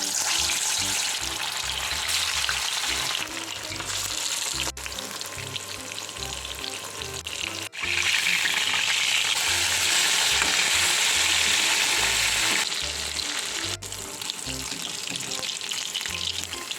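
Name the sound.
marinated fish frying in a pan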